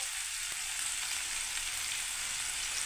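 Whole cumin seeds and spices sizzle in hot frying oil in a home kitchen, a steady close, dense hiss with no talk over it.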